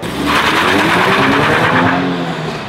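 A Scion FR-S engine with a loud aftermarket exhaust drones steadily, a throaty rumble that holds close and constant without pause.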